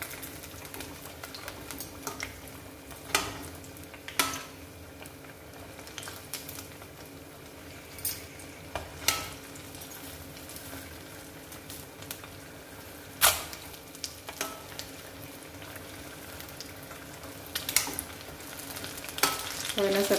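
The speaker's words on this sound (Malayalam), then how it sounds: "ഇനി അതൊന്ന് ഫ്രൈ ആയി നല്ലത് നന്നായിട്ടൊന്ന് ഫ്രൈ ആയി വരട്ടെ" Bajji fritters fry in hot oil with a steady crackling sizzle, dotted with sharper pops and the odd scrape or clack of a fork, going on without pause and with no talk.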